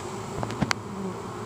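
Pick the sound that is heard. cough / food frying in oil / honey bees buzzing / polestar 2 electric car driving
honey bees buzzing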